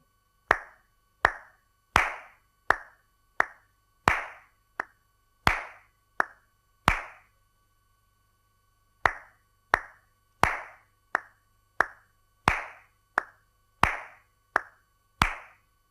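Flamenco palmas, crisp sharp hand claps in a steady compás pattern with accented beats, repeated in two phrases separated by a short pause, close and dry with nothing else heard.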